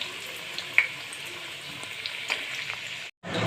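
Chicken pakoras fry in hot oil over low heat, a soft steady sizzle with light taps as they are stirred, ending in a sudden brief silence before the frying resumes.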